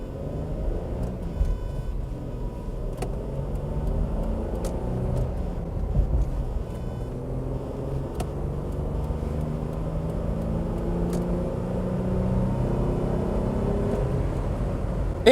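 An Isuzu Rodeo manual truck drives along with a steady low engine rumble and road noise inside the cab, its pitch drifting with speed, and faint ticks scattered over the drone.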